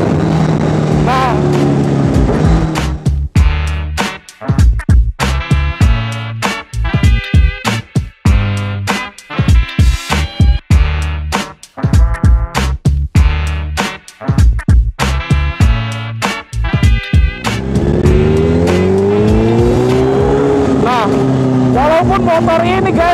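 Ducati V4S or Kawasaki H2 superbike being ridden, its engine roaring loud and close with rapid gear shifts, repeated revving bursts and harsh acceleration, rising and dropping in pitch throughout.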